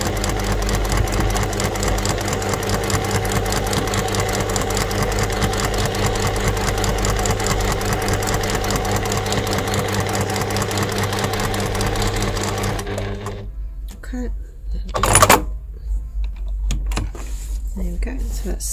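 A Juki TL 2020 Platinum Edition sewing machine stitches steadily along a folded fabric edge, its rapid needle rhythm running loud and continuous, then stopping abruptly and leaving a few faint handling sounds.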